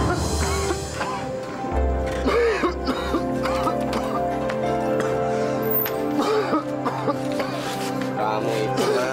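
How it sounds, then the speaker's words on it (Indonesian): A man coughs repeatedly in short rough bursts, nearby, over a low steady background hum. "Dari kemarin kamu batuk terus."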